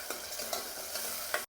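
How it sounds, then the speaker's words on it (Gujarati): Masala paste for cluster bean (guvar) curry sautéing and being stirred in a pan, a steady soft sizzle with a few brief scraping stirs, close and alone, ending abruptly. "થોડી વાર પછી ઢાંકણ ખોલી અને મસાલા પેસ્ટ છે ને સારી રીતે સાંતળી લેશું."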